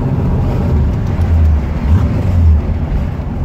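A Chevrolet Corvette Stingray with a four-speed manual gearbox rumbles nearby with a deep engine note, swelling in a couple of low revving surges over a steady throb.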